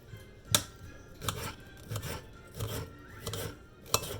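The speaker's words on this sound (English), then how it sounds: "So, see the white bit, I'm going to trim that off a little bit." A knife trims white fat off raw fajita meat on a cutting board, giving several separate slicing and scraping strokes with sharp little knocks, close and moderately loud, without speech.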